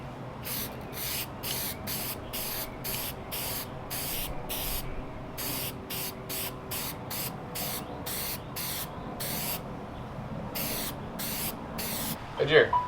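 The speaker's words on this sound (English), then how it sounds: "So now the last step is to spray this with the oil." Oil sprayed from an aerosol can onto a cleaned, dry car air intake filter on a 1JZ-engined Lexus IS300, about twenty short, evenly paced hissing bursts up close, with light handling noise at the end.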